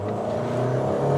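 A manual car's engine revs steadily and loudly close by, a sustained droning growl that holds its pitch and swells slightly toward the end.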